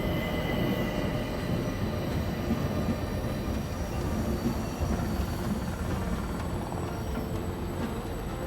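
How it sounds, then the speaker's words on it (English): Steady rumbling of a train rolling along the track, a continuous loud roar with grinding wheel noise and a faint squeal, unbroken throughout with no talk. "His train is a beautiful machine."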